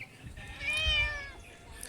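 A large 7 kg tomcat gives a single drawn-out meow, rising and then falling away, close by and fairly quiet against a low background hum.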